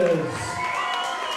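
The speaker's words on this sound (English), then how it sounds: "Ladies and gentlemen, please have a big round of applause for both" Crowd cheering and shouting at a hybrid boxing league event, voices rising in a loud, excited roar with scattered applause beneath it.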